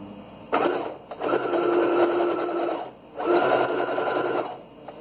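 Sewing machine stitching a surgical cap, running in two sustained loud bursts with a brief pause between them, close and clear with no talk.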